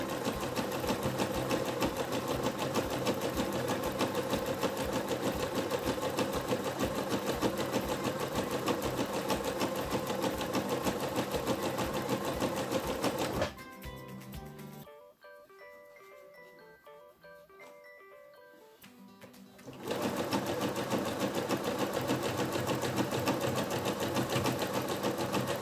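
Sewing machine running a zigzag stitch on stretchy dress fabric: a steady, rapid mechanical chatter, loud and close, that stops for about six seconds near the middle and then resumes at the same pace, with no talking.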